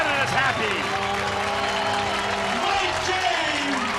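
A home rugby crowd in Toronto cheers and applauds a try for Canada against the USA, a dense, steady roar of clapping and shouting close by, with a commentator speaking over it.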